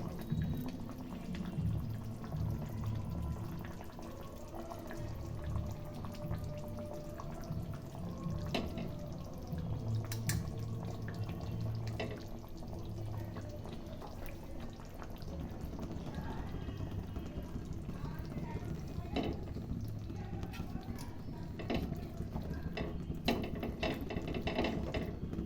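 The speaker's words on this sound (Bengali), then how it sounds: "ঝোলটা ফুটে গেছে।" A pot of fish curry broth with potatoes boils on a gas stove, giving a continuous low bubbling and rolling liquid sound, close and steady throughout with no talk.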